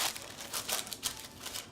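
Parchment paper crinkles and rustles as it is pressed into a greased cake pan, several close, uneven crackling bursts with no speech.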